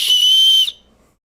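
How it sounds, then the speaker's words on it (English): A small survival whistle built into a belt buckle gives one loud, shrill, piercing blast lasting about two-thirds of a second, then cuts off abruptly into silence. "Has a little survival whistle on it too, built in."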